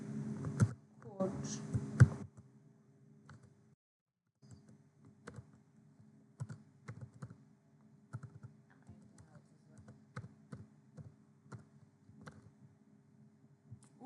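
Close computer-keyboard typing during coding comes in irregular bursts of soft clicks, with a voice speaking over the first couple of seconds.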